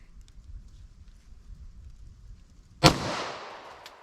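A 9mm +P Corbon Classic JHP round fires from a 5-inch-barrel pistol into ballistic gel: one sharp, loud gunshot crack with a decaying tail, preceded by quiet low outdoor rumble.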